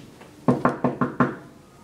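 Five sharp knocks on a door in quick, slightly uneven succession, close and fairly loud, with no voices.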